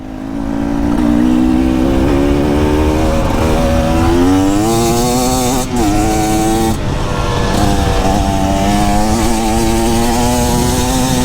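A loud two-stroke engine on a 2024 KTM EXC 300 dirt bike buzzes steadily up close while riding, its pitch rising and wavering as the throttle shifts, with one brief dip midway.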